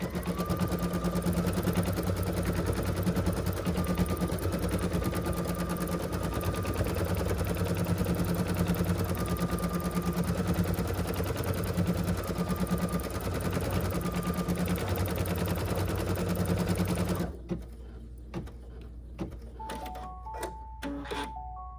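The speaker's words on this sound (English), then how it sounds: "So we're just going to stitch right on our stabilizer again." A sewing machine stitches a felt placement line onto stabilizer for a gingerbread Christmas embroidery project, running as a steady, loud mechanical whir for about seventeen seconds before stopping abruptly, followed by faint clicks and a few electronic beeps.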